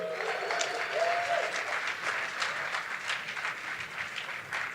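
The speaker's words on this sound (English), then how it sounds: "Give that a round of applause." Steady applause from a conference audience for a speaker at a business event, dense and continuous throughout with no break.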